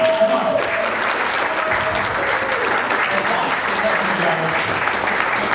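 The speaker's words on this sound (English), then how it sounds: "Give them a round of applause." A crowd at the 2021 Libertarian Party convention applauds party leaders, loud steady clapping filling the room, with murmured voices and some vocal sounds blended underneath.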